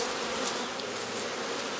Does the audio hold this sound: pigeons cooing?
no